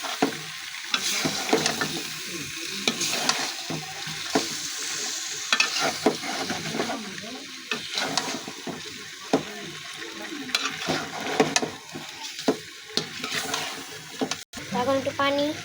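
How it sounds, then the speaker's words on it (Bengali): Beef and papaya sizzle in a pan while a spoon stirs and scrapes them in repeated strokes, with steady frying hiss close by and someone talking over the cooking. "এখন লাড়িয়ে চাড়িয়ে পানি দিয়ে দেব।"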